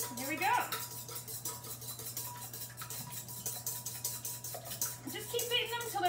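Eggs are beaten with a hand whisk in a bowl, giving a fast, continuous run of light metallic clinks and scrapes. A voice talks faintly over the rhythmic whisking.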